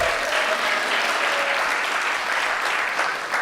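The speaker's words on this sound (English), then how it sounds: "You can clap for that." A stand-up comedy club audience breaks into strong, sustained applause, a thick, even roar of clapping hands that holds steady throughout.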